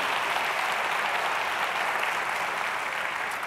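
A church congregation applauds in a steady, even wash of clapping that holds at a constant level throughout, with no voices standing out.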